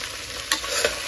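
Vegetables for a pressure-cooker vegetable pulao being stirred in the pot, with a steady frying sizzle throughout and two brief, louder scrapes of the spoon against the pot.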